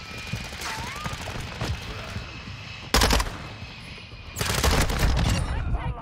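Bursts of rapid automatic gunfire from a multiplayer shooter game, one short volley and then a longer sustained stretch of shots, with quieter game ambience in between.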